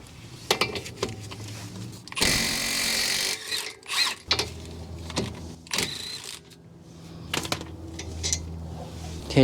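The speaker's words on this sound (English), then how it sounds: "now we need to loosen and remove these two caliper slide pin bolts" Front brakes of an Acura TL being worked on as a 17 mm wrench loosens the caliper slide pin bolts, giving a run of close metallic clicks, ratchets and scrapes with a longer grinding burst near the start, no talk.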